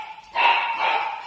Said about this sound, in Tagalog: At papalabasin ko po yung apat na aso